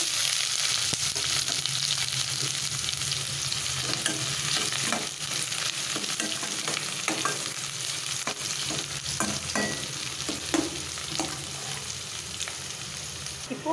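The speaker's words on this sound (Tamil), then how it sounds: "இப்போது வெங்காயம் இந்த அளவுக்கு ஃப்ரை ஆனால் போதும்" Sliced onions sizzle steadily in hot oil with mustard seeds and fennel for a cucumber curry, a continuous close frying hiss with occasional stirring scrapes and no clear talking.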